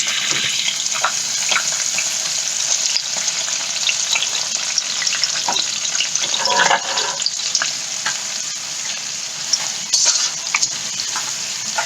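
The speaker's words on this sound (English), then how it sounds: "I'm going to fry the anchovy." Anchovies fry in hot peanut oil, a steady, close crackling sizzle with bursts of popping and occasional stirring clinks.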